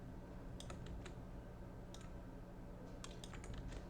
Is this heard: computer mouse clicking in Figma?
yes